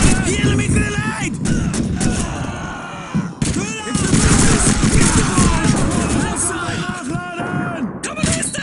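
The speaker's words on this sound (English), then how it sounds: "It's an MG-42! Take it out!" Call of Duty 2 battle noise: MG-42 machine gun fire and explosions mixed with shouting and screaming soldiers, a loud, dense, continuous barrage with a brief lull near the middle.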